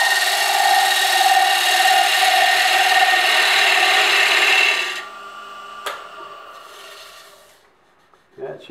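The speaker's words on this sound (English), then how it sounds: "So I'm going to do bevel rubbing cuts for this last part." A Hunter Viceroy tool makes bevel-rubbing cuts on a spinning wood lathe piece, a steady close shearing hiss that runs for about five seconds, then stops, leaving a quieter hum and a few small knocks.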